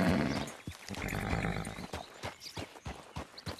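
A horse in the video game Red Dead Redemption 2 gives a loud, close neigh and whinny at the start, followed by a run of clip-clopping hoofbeats on hard ground.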